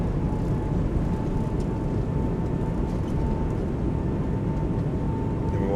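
Airbus A220 thrust reversers roaring in a flight simulator during landing rollout, a steady loud low rumble with a faint tonal whine running unbroken throughout, no voices.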